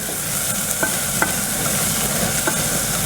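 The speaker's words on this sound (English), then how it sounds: "So we put a little bit of sesame oil, and we cook all of this into one" Food stir-frying in a pan with a little sesame oil, a constant loud close sizzle with occasional scraping stirs of a utensil, no voices.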